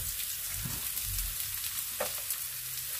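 Garlic and onion sautéing together in a pan, with a continuous soft sizzle and occasional stirring scrapes, close by and without talk.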